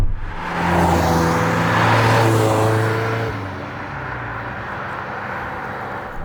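A Ferrari Berlinetta 328 or 348 with manual gearbox, around 270 horsepower, revs up loudly with a rising, harmonic-rich engine note, then eases off into a lower steady hum as it drives on.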